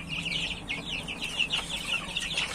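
Chickens, with a rooster among them, cluck in quick repeated bursts, soft and moderately close over a quiet farmyard background, with no talking.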